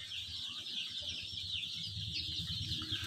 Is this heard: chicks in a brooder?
yes